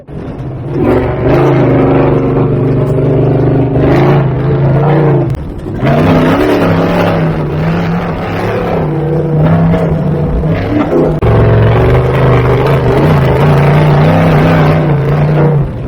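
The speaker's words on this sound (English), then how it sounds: "I got to go for a ride, basically in a race truck." A race truck built from a 1987 Toyota revs loudly and close by in a desert canyon, its engine rising and falling in sustained surges with a brief dip around the middle.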